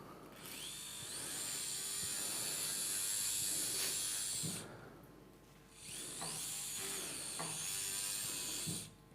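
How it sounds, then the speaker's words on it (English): A protected surgical burr drills during full-endoscopic central canal decompression of the spine, giving a steady high-pitched whine in two long bursts separated by a short pause, loud and close with no voices. "The tip of the burr is smaller than the regular protected one."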